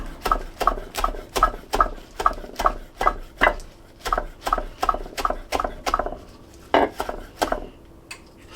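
A knife chops fresh basil on a cutting board while duck noodle soup is prepared, giving a steady series of sharp, close taps in even rhythm, pausing briefly before a few last strikes.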